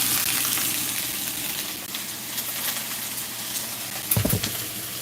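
Kidney beans boil in a pot for chili, a steady close-up bubbling and hissing patter, with a brief clank of cookware near the end and no talk.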